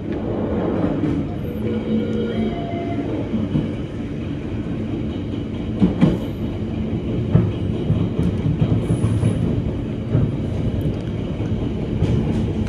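Argo Semeru executive class train running, heard from inside the carriage as a steady low rumble and roar with faint rail clatter and occasional squeals throughout.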